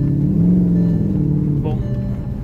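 Volkswagen Phaeton engine humming steadily while driving on a country road, a low even drone that eases off slightly toward the end, with no talk over it.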